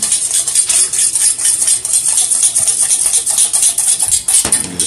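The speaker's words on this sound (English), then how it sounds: "Put a little salt in there. We're going to just stir this up right now." Vegetables being stirred with salt in a pan for an Asian veggie bowl, a steady loud scraping and rustling with a bright hiss, continuous throughout with a brief dip near the end and no talking.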